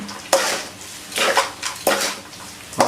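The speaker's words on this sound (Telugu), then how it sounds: "ఇలా కొంచెం కడుక్కుంటూ తిప్పుకుంటూ కలిపేసుకోండి" A spoon scrapes and stirs lemon rice around a metal pan in three or four distinct sweeping strokes, each a close, gritty rasp of metal and grains with short pauses between.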